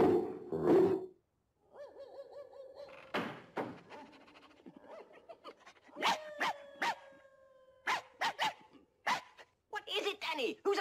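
Dogs bark and howl in 101 Dalmatians, sharp repeated barks in quick clusters with longer drawn-out howls, some near and some distant, mixed with voices talking.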